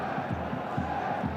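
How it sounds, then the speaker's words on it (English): Inter supporters in a football stadium at the Supercoppa Italiana chant in a rhythmic, pulsing roar, a dense distant crowd sound with regular beats of massed voices. "Crowd are cheering on Inter,"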